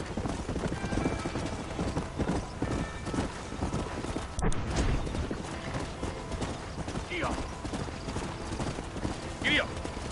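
Horse hooves clip-clop steadily at a walk in the Red Dead western video game, mixed with ambient game sound and a rider's voice talking over it; a brief whinny surfaces near the end.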